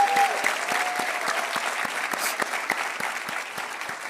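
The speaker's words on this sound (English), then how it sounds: "You can clap it up." Steady applause from an audience at a university address, a dense patter of many hands clapping continuously at moderate volume with no voices on top.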